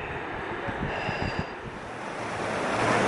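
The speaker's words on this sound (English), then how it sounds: "That waterfall is pretty sick." Waterfall along the Cline River trail, a steady rushing roar of falling water that fills the whole clip, close and constant with slight surges and no voices.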